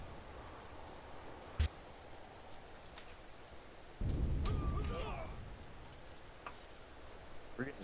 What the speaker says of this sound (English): We're getting splashed by the rain.